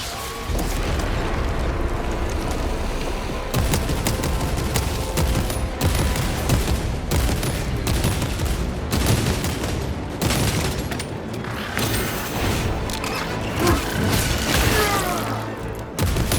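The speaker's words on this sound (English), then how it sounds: "the shooting feels really fucking good" Heavy gunfire and explosions from Space Marine 2 rattle on continuously for over sixteen seconds, dense and loud with repeated booming bursts and rapid shots.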